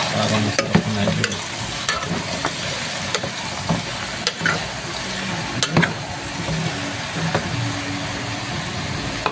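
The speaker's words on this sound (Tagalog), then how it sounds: "Atong imikos-mikos mga idol. Yan, imikos-mikos natin yung idol." Pork intestine adobo sizzles and fries steadily in a pan while a utensil stirs and scrapes through it, giving irregular clinks and scrapes over a continuous close crackle.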